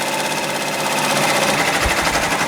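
An embroidery machine stitching a Cupid design onto a sweatshirt makes a steady, fast mechanical chatter and whir, continuous and fairly loud, with a low thump near the end.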